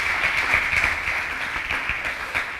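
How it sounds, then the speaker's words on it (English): Brief, moderately loud round of audience applause at the launch of a university sport precinct, even clapping filling a couple of seconds. "Another big round of applause for Ms. Coles, ladies and gentlemen"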